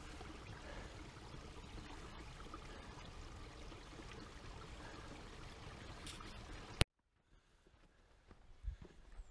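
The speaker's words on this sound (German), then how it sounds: "Ein bisschen Wasser fließt hier noch." Water trickles through a small, mostly frozen stream on a cold hillside, a steady rushing wash for most of the stretch before cutting abruptly to near quiet with faint scattered trickles.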